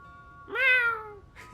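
A cat meows once in the video game Gravity Rush 2, a single clear rising-then-falling call of moderate loudness heard alone over a quiet background.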